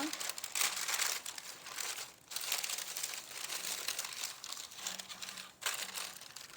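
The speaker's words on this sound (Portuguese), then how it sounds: "Agora, colocamos o papel dentro da forma." Sheet of baking paper crinkled and pressed into a baking pan for a Brazilian potato kugel, loud rustling crumple close up in long bursts with brief pauses, a voice speaking at times.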